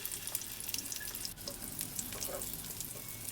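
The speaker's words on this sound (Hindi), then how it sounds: "मीडियम लो फ्लेम पे व्यूअर्स हम इन्हें फ्राई करेंगे" Fish kebabs, or fish cutlets, shallow-frying in a pan over a medium-low flame, with a soft, continuous sizzle and scattered small pops and spits throughout, quiet and unaccompanied by speech.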